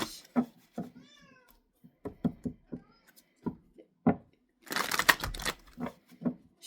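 A pet cat chatters with a string of short, close meows and chirps at an uneven pace, broken by a brief burst of rustling partway through.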